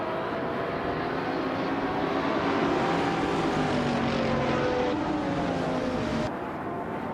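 Race cars, including a 2012 Noble M600, roar off the start at the Deutschlandring in a racing video game, a dense, sustained engine drone with rising whines that stays loud throughout before easing slightly near the end.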